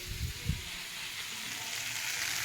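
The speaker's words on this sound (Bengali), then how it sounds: "সবজিটা ঠিকঠাক ভাজা হয়ে গেছে, এখন আমি গরম জলটা দিয়ে দেব।" Hot water is poured over vegetables frying in a pan, sending up a bright, steady sizzle with a couple of soft low thumps early on, close and continuous without speech.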